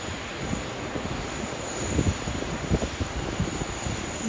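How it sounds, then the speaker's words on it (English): Qantas 100 airliner just arrived at Sydney Airport from Johannesburg, a continuous loud engine roar and rumble heard from outdoors with some wind on the microphone. "This is the Qantas 100 that just arrived from Johannesburg."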